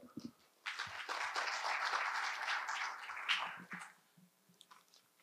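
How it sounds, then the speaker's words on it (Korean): An audience at a 2022 city economic forum in Seogwipo breaks into steady applause that lasts about three seconds and then tapers off, heard at moderate distance in a hall. "큰 박수로 모시겠습니다."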